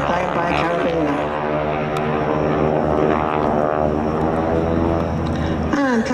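Propeller aircraft flying an air show display at Duxford with wing walkers strapped into rigs on top, engine drone loud and steady throughout, rising and shifting in pitch as it passes close.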